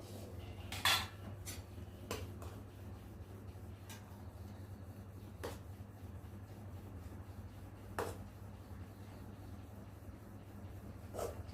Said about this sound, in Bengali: ফার্স্টে ভাতটাকে বেড়ে রেডি করে নেব।